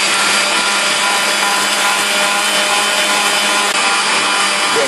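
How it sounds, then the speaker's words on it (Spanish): An electric mixer beats four eggs with 200 grams of sugar for a cake, giving a steady, loud, continuous whirring hum that holds level throughout without pause. "le damos caña a nuestra batidora hasta que doble su volumen"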